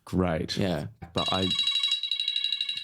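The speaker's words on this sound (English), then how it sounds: "sorry, that's a phone call." A telephone starts ringing with a steady electronic trill right after a man's brief speech, continuing loud and unbroken to the end.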